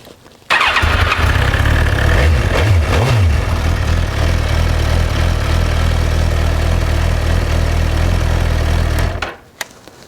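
A 2007 Suzuki GSX-R 1000 sport motorcycle engine starts in neutral and idles loudly and steadily close by after a battery swap, with a brief rev early on, then cuts off near the end.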